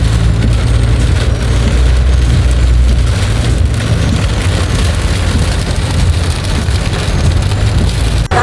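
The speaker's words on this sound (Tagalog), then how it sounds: "Ayan, ang lakas na ulan. Talagang binabagyo to si Katara namin." Heavy rain pours down in a storm, a loud, dense and unbroken roar of water striking surfaces, heard alone with no voices throughout.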